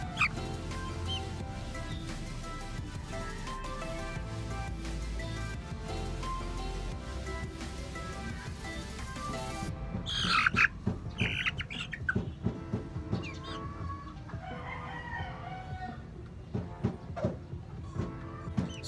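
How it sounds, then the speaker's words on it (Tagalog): Two-month-old chicks being raised alongside gamefowl stag stock call and squawk in a busy flock, overlapping chirps and clucks over steady background noise, with sharper, louder calls bursting out in the second half. "So yun yung update sa ating mga sisiw na nag 2 months old na ngayon"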